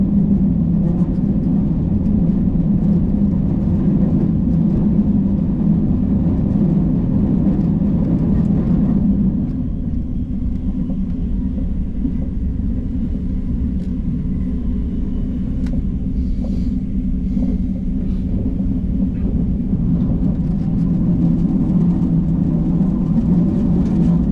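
A KTX high-speed train cruises after leaving Daejeon Station, heard as a steady, loud low rumble and whir that shifts slightly midway and continues without talk.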